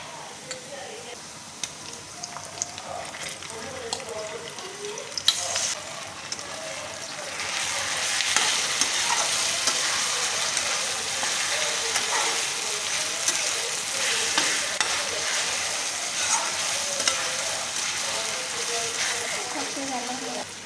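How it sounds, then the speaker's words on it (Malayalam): Marinated chicken pieces hit a hot pan of browned onions and fry with a loud, steady sizzle that swells after the first few seconds and continues unbroken, with faint stirring scrapes. "മസാല പുരട്ടി വെച്ചിരുന്ന അരമണിക്കൂർ കഴിഞ്ഞു. ആ ചിക്കന് ഇതിലോട്ട് ഇടുക."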